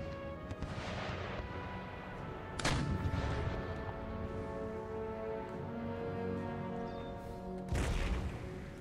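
Elite 24-pounder foot artillery in Empire: Total War fires two loud, booming cannon blasts several seconds apart, the first near the three-second mark and the second near the end, over a continuous rumble of battlefield ambience and music.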